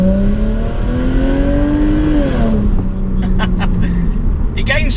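A Subaru Legacy with nitrous accelerates hard in first gear in Tiptronic mode, its engine note climbing steadily for about two seconds before easing off, with someone talking over it.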